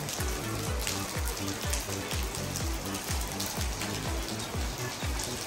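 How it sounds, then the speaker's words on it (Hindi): Heavy monsoon-style rain pours steadily outside, a dense, continuous hiss of downpour that stays loud and unbroken throughout, with no voices heard over it. "बाहर इतनी मूसलाधार बारिश हो रही है कि डर ही लग रहा है।"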